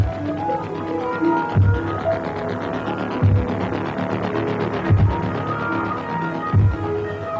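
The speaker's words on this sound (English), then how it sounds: "in a 20-year-old Soviet helicopter of the Vietnamese army" A 20-year-old Soviet military helicopter of the Vietnamese army in flight, with a steady droning engine hum and rotor throb, plus a deep pulsing beat recurring about every one and a half seconds.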